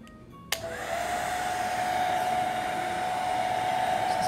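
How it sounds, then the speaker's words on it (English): A blow dryer set on low runs steadily to dry a painting done with wine as the medium, switching on with a sharp click and then settling into a continuous, fairly loud whir that holds to the end. "I'm going to use my blow dryer and kind of let some of this dry."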